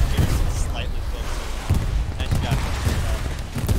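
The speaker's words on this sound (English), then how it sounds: "let's stay in here and wait until this artillery barrage is over" Katyusha rocket artillery barrage in the WW2 video game Hell Let Loose, a dense rolling rumble of low booms and crackling blasts that stays loud and continuous throughout, with a few sharper impacts standing out.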